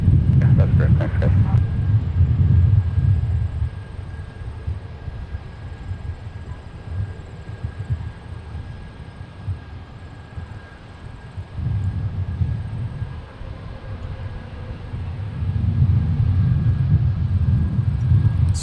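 Jet aircraft rumble at Minneapolis-Saint Paul airport, a continuous low roar that rises and falls over the stretch, fairly distant, with a brief crackle of radio at the start.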